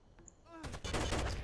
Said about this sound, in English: I just hear gunshots.